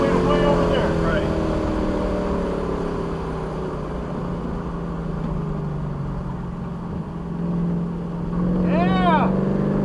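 A car engine hums and builds under throttle on an open race track, a steady, close drone with a rise near the end, while people talk over it.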